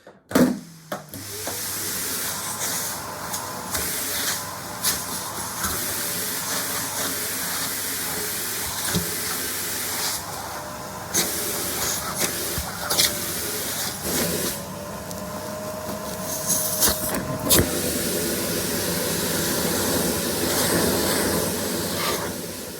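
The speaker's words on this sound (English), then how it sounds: "We're going to vacuum out all of the large grass and leaves, spider webs, and so on." A vacuum hisses and roars continuously, its pitch shifting as it sucks loose grass, leaves and spider webs from a Cybex Balios stroller, with occasional knocks and rattles.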